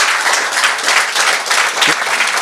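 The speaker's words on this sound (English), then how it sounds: "give a big round of applause to" An audience at a sauna event panel bursts into steady, dense applause that fills the room evenly from start to finish.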